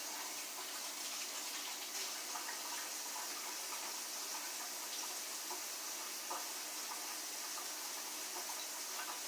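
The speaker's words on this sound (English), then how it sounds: "I'm going to rinse my hands." Steady tap water running in a kitchen sink while hands are rinsed, a constant even hiss lasting several seconds without change, moderately close, no talking.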